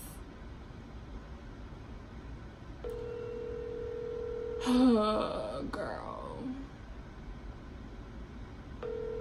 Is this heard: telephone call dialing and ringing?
yes